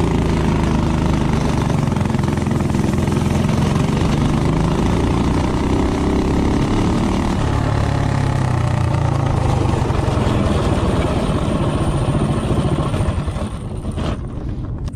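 A Coleman CT200U-EX minibike engine fitted with a higher-compression head gasket runs loud and close, a steady buzzing drone that holds for the whole stretch with no talking.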